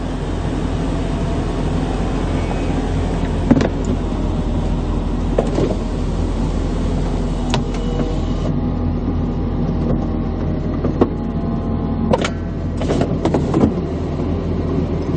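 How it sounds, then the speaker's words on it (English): The retractable roof of a Mercedes-Benz SL55 AMG closes: a steady low motor hum with faint mechanical whirring and a few light clicks and clunks over about fifteen seconds, heard up close. "I'm going to put the roof up for you now."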